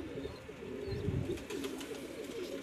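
Golden pigeons coo softly at a loft, low murmuring calls rising and fading over a faint background, with no voices.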